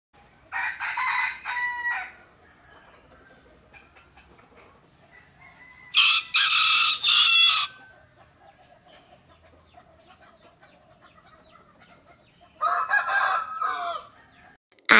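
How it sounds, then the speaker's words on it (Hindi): A rooster crows three times at close range, spaced several seconds apart, with quieter hen clucking in the gaps between the crows. "H for hen, H E N hen, हैन माने मुर्गी।"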